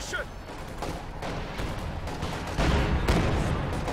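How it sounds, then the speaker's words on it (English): Booming cannon shots and scattered battlefield gunfire in the real-time strategy game Company of Heroes 2, with an Su-85 tank gun firing at long range, several heavy reports over a busy combat din, with a commentator talking throughout. "Su-85's trying to fire at the Puma, I think, at long range"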